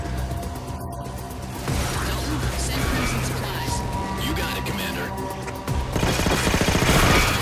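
A weapon fires repeatedly in the video game Halo 4, a sustained run of loud rapid shots that grows heavier toward the end, with someone talking over it.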